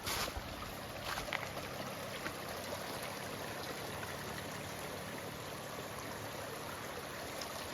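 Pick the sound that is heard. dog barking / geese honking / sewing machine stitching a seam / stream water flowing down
stream water flowing down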